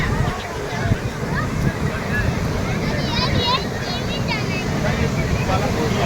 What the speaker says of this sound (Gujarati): મોજા જુઓ એના ઉછળીને આવે મિત્રો તમે. અને અવાજ જુઓ તમે, અવાજ કેટલો કરે છે ખાલી.